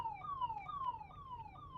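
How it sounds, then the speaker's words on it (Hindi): An ambulance siren wails in traffic, its pitch sweeping down and jumping back up in a fast, repeating cycle, fairly faint and heard alone from behind the vehicle. "अब मेरे पीछे आप सायरन सुन रहे होगे, एम्बुलेंस है भाई"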